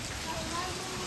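Steady rainfall hisses continuously during a monsoon downpour, a dense even wash of drops with no pauses, close by and fairly soft.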